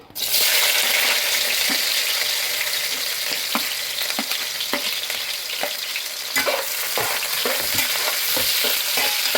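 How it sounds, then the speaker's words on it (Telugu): Onions fry in hot oil for fish curry, a loud, dense sizzle that starts abruptly and holds steady, broken by regular stirring scrapes and taps of a spoon, no one speaking. "ఇప్పుడు ఉల్లిపాయలు వేసుకున్నాను, ఆయిల్ కాగింది."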